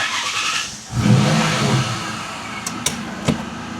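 A Ford Mustang Cobra convertible with a history of flood damage idles and backs up slowly, its engine holding a low steady rumble that swells after a brief dip, with a few faint clicks near the end.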